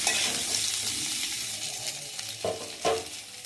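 Neem sukto, a Bengali dish of neem leaves, frying and being stirred in a pan over a medium-high flame: a bright, close sizzle with two clear spatula scrapes near the end, no voices.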